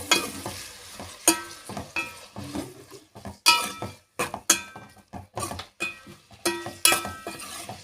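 Onions and spices sizzling in hot oil with turmeric for Andhra-style gongura chicken, broken by repeated scraping stirs of a spoon against the pan, each stir bringing a sharp clatter between softer stretches of frying.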